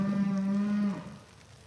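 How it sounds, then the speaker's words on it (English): A young calf, a couple of weeks old, lets out one long, close, steady moo lasting almost a second, then fades into quiet farm background. "We got a new little baby calf right here."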